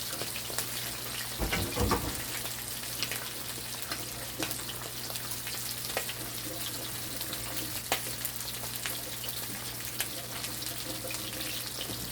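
Vegetables are rinsed under a running kitchen tap, a soft steady hiss of water with a brief splashy clatter near the start, faint and close, with no talk.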